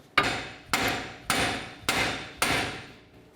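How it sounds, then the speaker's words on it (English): Five sharp hammer blows strike the axle nut to drive a 2014-2020 Nissan Rogue front wheel hub bearing out of its steering knuckle, evenly spaced about half a second apart, each ringing briefly before the next. "we'll take the hammer and we're going to give this a couple loving bonks trying to drive it away from the knuckle"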